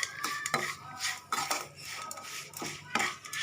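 A metal spoon stirs salt into Kanchipuram idli batter, scraping and clinking against the vessel in irregular repeated strokes, fairly quiet and close, with no talking.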